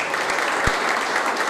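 A crowd at a youth sports awards ceremony applauds the youngest children of a football club, steady dense clapping throughout, with one dull thump near the middle.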